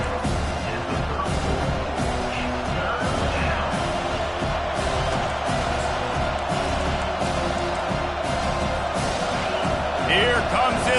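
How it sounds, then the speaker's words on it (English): A home crowd roars in a continuous loud swell at a football game as the defense faces third down, with an announcer talking over the din and scattered thumps and whoops. "Here comes this home crowd as the defense tries to get off the field on 3rd down"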